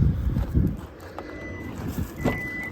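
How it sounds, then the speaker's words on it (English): Automatic power tailgate on a 2023 Hyundai Palisade Calligraphy gives a couple of brief, thin electronic warning beeps, with the second longer one near the end, over quiet outdoor background rumble. "Automatic tailgate, of course."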